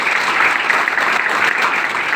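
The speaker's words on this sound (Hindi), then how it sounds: "एक शानदार ताली हो जाए श्रीकांत सर के लिए।" Brief burst of audience applause at a speech event, a dense, even clapping held at steady loudness for about two seconds with no voices over it.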